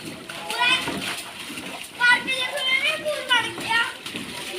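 Children splash and play in water flooded across a park, with bright, chattering kids' voices on top of intermittent splashing and spattering close by.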